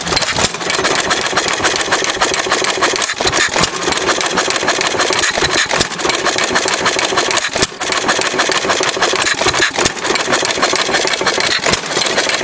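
An old 1.5 horsepower Sattley stationary engine on its first run runs loudly and steadily up close, its rapid chugging broken by occasional skipped beats as it misfires.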